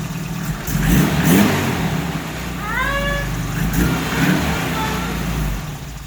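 A Suzuki Samurai engine fitted with a Toyota 3K carburetor runs at a rough idle with a low steady rumble and small rises in revs, while people talk and cheer over it.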